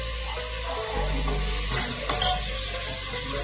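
Tomatoes drop into sizzling ginger-garlic paste for mutton keema, and a loud, continuous close frying hiss runs under brief stirring clatter.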